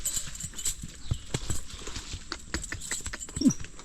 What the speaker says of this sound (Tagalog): Ito ng kabayo